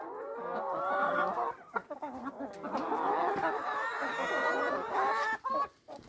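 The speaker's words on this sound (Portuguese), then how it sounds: "Dois galos brigando, oh meu Deus. Todo mundo cantando" Several chickens cluck and squawk close by in overlapping bursts, with the crowing of two fighting roosters mixed into the busy flock on a farm in the morning.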